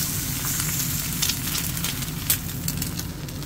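Egg frying in a wok-style pan over a strong flame, a loud, steady sizzle with scattered crackles and pops, close up and without talk.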